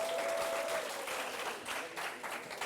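A lively audience at a high-school quiz contest breaks into applause, a thick wash of clapping that starts loud and fades slightly, with a brief tone sounding underneath at the start.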